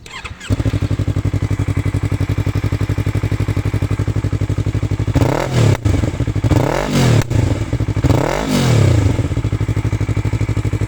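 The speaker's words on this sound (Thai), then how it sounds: "ฟังเสียงเครื่องครับ" A 2019 Yamaha YZF-R3 motorcycle engine with over 28,000 km idles steadily, then revs up sharply three times in quick bursts before settling back to a rough, even idle.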